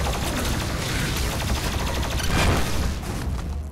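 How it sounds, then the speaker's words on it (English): Rapid plasma rifle fire and explosions from the video game Doom Eternal blend into a dense, continuous barrage of shots and blasts. The noise is loud and sustained, with a heavier burst midway. "They really do cause a bad explosion,"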